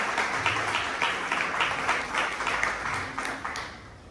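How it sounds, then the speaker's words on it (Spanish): Audience applause at a church-hosted university event on spirituality and science, a steady wash of many hands clapping with faint voices mixed in. "Un fuerte aplauso."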